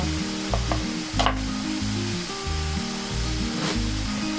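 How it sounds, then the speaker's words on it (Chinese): Potato strips dropped into very hot oil on high heat, a steady loud sizzle and bubbling that carries through with a few sharper spatters, no voices. "大火把油烧到9成烫，手掌放在锅上能感觉到热气时下土豆条"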